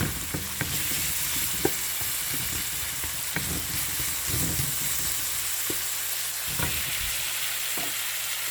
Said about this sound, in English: So saute it until this will become slightly golden brown or